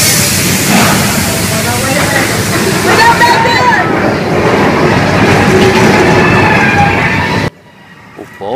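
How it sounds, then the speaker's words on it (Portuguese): Runaway subway cars burst into a theme park special effect inside a mock metro station, with loud rumbling, clattering rail noise and sloshing water, voices faint beneath, then an abrupt drop to near silence. "quando estamos dentro de uma estação de metrô, onde começa a acontecer de tudo: fogo, água e vagões desgovernados"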